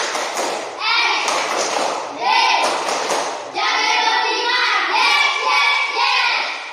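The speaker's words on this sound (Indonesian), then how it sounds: "Tepuk semangat." Children in a classroom clap together in a rhythmic 'tepuk semangat' spirit clap, bursts of hand claps with thumps close by, mixed with children's voices and shouts throughout.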